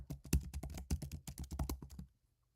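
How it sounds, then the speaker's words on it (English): Rapid clattering keystrokes on a computer keyboard, typed in quick uneven bursts close by, then stopping abruptly into near silence. "I'm still typing all this out."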